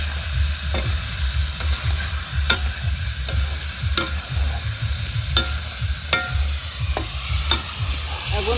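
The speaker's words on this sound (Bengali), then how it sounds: "এখন ভালো করে কষাবো।" Chicken skin stir-frying with cut potatoes and whole small garlic cloves, a loud continuous sizzle broken by regular scraping clicks of a spatula against the pan, no talk.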